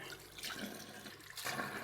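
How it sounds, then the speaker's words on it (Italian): Hot water runs from a tap into a sink while spent 30-06 rifle cartridge cases are rinsed, a quiet, continuous splashing rush that swells slightly near the end. "Apriamo l'acqua calda"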